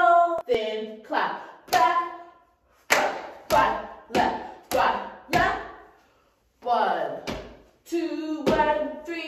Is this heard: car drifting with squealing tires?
no